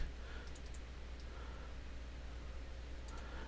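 Mouse clicks from a computer editing session in Sony Vegas: small crisp clicks in quick pairs near the start and one more pair near the end, quiet and close over a steady low hum.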